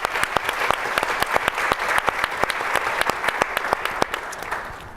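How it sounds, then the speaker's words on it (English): Conference attendees at a housing summit plenary clap for an organization, a loud, dense, even burst of applause with crisp individual claps, tapering off slightly at the end. "So I want to give a round of applause to CLAFA for all of their work."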